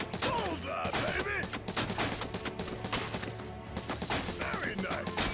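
Rapid gunshots fired at a shooting target in Final Fantasy VII Rebirth, a dense string of sharp cracks and thumps mixed with game music and voices, fairly faint overall.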